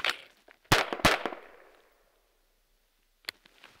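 Gunshots at an outdoor range during weapon-transition drills: two loud sharp reports close together, a decaying tail, a pause, then one more fainter crack, with no talk over them.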